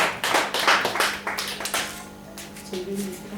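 A church congregation breaks into a short round of clapping, brisk and dense at first, then thinning out as a voice begins speaking.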